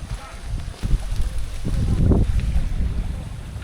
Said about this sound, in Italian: quando c'è il vento, tipo adesso